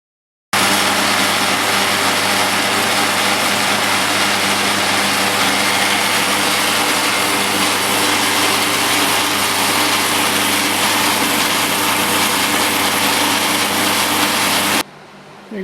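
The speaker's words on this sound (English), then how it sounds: "We got all the pieces, bandsaw cut to the rough size." A bandsaw cuts a large metal bar in a workshop, a loud continuous whine and hum that runs unbroken for about fourteen seconds before stopping abruptly.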